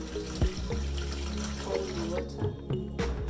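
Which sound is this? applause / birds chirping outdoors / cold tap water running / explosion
cold tap water running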